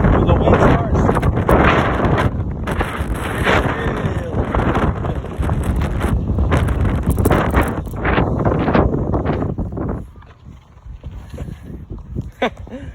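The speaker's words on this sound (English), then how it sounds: "It's windy." Strong wind buffets the microphone in loud, gusty bursts while cycling, easing off and becoming quieter and patchier near the end.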